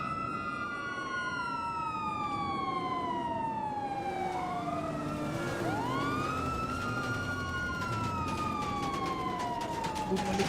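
A police car siren wails through a long falling and rising sweep, loud and fairly close, with traffic and street noise underneath.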